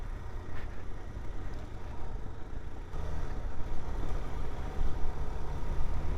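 Suzuki DR-Z4S motorcycle engine held in second gear while riding downhill, a steady low rumble with wind noise, growing slightly louder midway, no talk.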